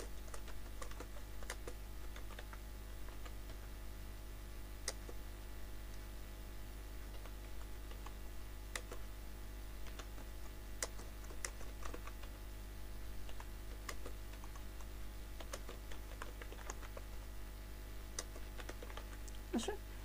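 Keys on a computer keyboard tap in irregular, sparse clicks over a constant low electrical hum, quiet and close throughout.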